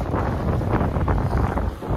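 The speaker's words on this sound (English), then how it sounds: "Mamelodi is so windy and cold." Strong, cold wind in Mamelodi, South Africa, roars continuously across the microphone as a loud, close, rumbling buffet with steady gusting and no clear talk.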